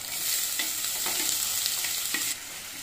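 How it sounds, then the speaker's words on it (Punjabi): Finely chopped onions frying in ghee with cumin give a steady, close sizzle with occasional crackles and the clink of a stirring spoon; the sizzle drops slightly near the end, and no one speaks. "ਹੁਣ ਆਪਾਂ ਬਰੀਕ ਕੱਟ ਕੇ ਨਾ ਪਿਆਜ਼ ਰੱਖਿਆ ਇਹ ਭੁੰਨਾਂਗੇ"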